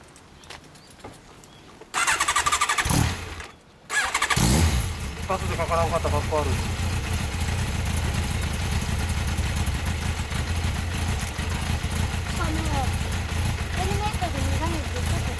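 Yamaha XJR1300 motorcycle with a Yoshimura Cyclone exhaust cranking briefly, firing up and settling into a steady, throaty idle nearby, with voices talking over it.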